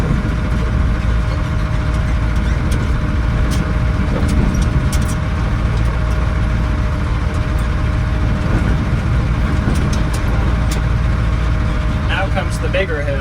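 A dump truck rolls slowly over glare ice with its engine rumbling steadily close by inside the cab, and someone talks quietly throughout.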